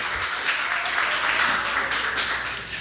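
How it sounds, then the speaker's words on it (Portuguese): A church congregation applauds together: a sustained, fairly close wash of many hands clapping at once, with no single claps standing out. "vamos aplaudir o Senhor Jesus bem forte para o Rei da Glória"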